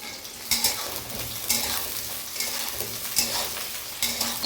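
Two tomatoes frying with onions in mustard oil, a steady loud sizzle with recurring bursts of spatter and scraping as the mixture is stirred, no voices.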